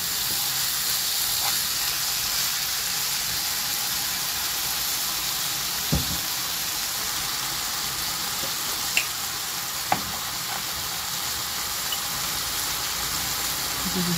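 Water poured into a hot pan sets off a steady, bright sizzle and hiss that holds for a long stretch, with a few faint clinks of utensils.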